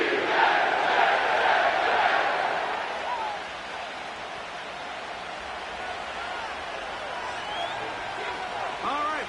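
A roaring stadium crowd at MetLife Stadium in East Rutherford, New Jersey, in an EA Sports football video game, with a loud broad cheer at the start settling into a steady sustained crowd roar.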